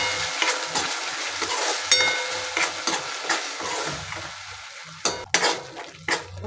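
Matar paneer masala fries in a pan while a spoon stirs and scrapes it, with a steady close sizzle, irregular clinks and scrapes against the metal, and no talking.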